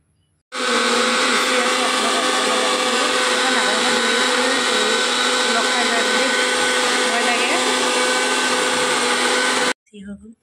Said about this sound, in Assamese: ভেদাইলতা পাত এইখিনি দি মই পিচি লওঁ